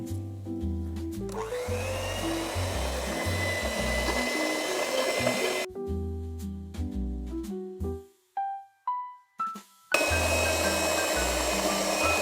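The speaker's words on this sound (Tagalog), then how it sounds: "So we'll do the final mixing using the electric" Electric hand mixer whirs steadily through a chocolate ice cream base of cream and cocoa, a continuous motor drone with shifting pitch, then cuts out into brief stuttering pulses before running steadily again.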